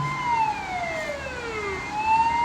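A Turkish police car siren wails in the Euro Truck driving game, its pitch sweeping steadily down and then back up, loud and continuous over low road rumble with no talking.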